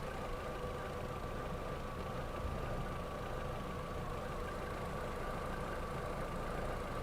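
A VW engine idles steadily, still misfiring slightly, with a continuous low rumble and faint irregular knocks throughout, no talk.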